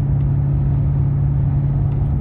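Steady low engine rumble and road drone inside a Lincoln-style town car with a 3.73 rear gear, cruising at speed, a constant deep hum with no talk.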